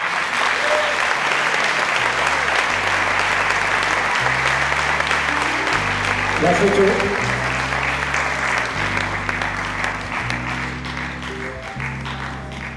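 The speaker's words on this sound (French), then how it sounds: "Sous vos applaudissements" Loud, sustained applause from an award ceremony audience continues throughout as a trophy is presented. Music with a steady low bass line plays beneath the clapping, and a brief spoken remark comes through it.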